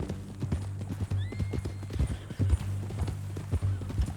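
A horse in Red Dead Redemption 2 clip-clops along at a steady walking rhythm, close and clear, with a brief whinny near the start.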